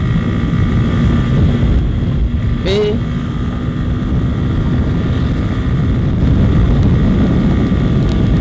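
A motorcycle running at about 100 km/h on the Pantura coastal highway between Pati and Semarang, with steady broadband engine and wind roar throughout and a short spoken word partway through.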